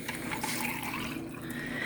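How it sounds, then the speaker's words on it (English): Water pouring into a jar to top it off, a steady close splashing trickle lasting the whole moment, with no talking. "Top it off with water"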